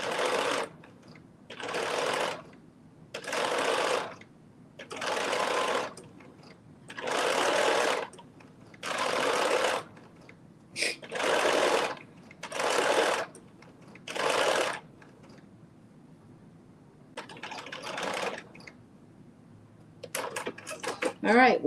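Sewing machine stitching a fabric casing in about ten evenly spaced close bursts of a few seconds each, separated by short pauses, with a quieter stretch and a brief sniff near the end.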